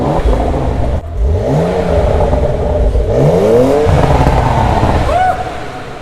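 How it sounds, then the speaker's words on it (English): A sports car engine, likely a new BMW M3, burbles in sport mode and is given several rising revs that sweep up and fall back, loud and close, with a voice briefly audible. "Put it in the sport mode, give it a little burble. Where's this one? Oh. And just give it a little rev."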